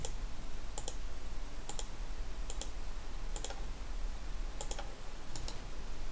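Computer mouse used in a mechanism-design CAD tutorial, giving six crisp double clicks spaced about a second apart, quiet and close, with no talking.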